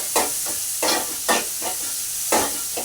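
Onions for a mutton curry frying in a pan, a loud constant sizzle broken by about five rhythmic scraping strokes of stirring.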